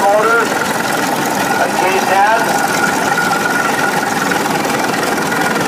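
A large prairie tractor rolls past in a tractor parade at Rollag, its engine a steady, rough mid-pitched rumble heard close throughout, with people talking over it.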